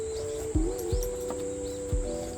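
Birds chirp in a forest behind a small vegetable garden on a rainy day, short calls repeating against a steady insect-like hum and a soft, low, thudding background.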